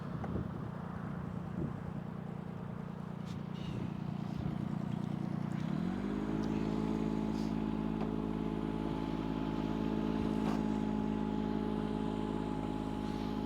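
Kubota U10 mini excavator diesel engine rising to half throttle with its dozer blade down, idling steadily before revving up around midway into a loud, even, constant drone, with no talk over it.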